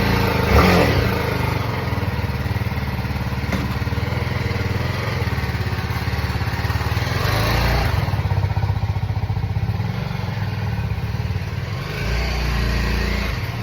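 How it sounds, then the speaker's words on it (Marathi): Motorcycle riding off to a petrol pump, a close steady engine drone with a brief rev near the start and a change in pitch toward the end, no talking over it. "तर काय घेतली मी माझी बाईक ना,"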